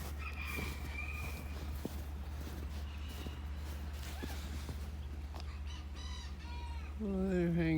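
Quails on a Texas farm during a snowstorm give short chirping calls, sparse at first and then clearer and closer near the end, over a steady low hum.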